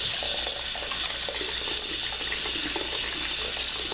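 Tap water runs steadily into a sink where a homemade bubble bar is being broken up, a constant close splashing gush with no talk.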